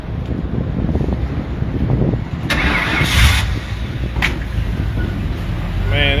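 An ex-racecar restored as a street car starts and runs with a deep, rough engine rumble under heavy wind noise, loud and close, with voices talking over it.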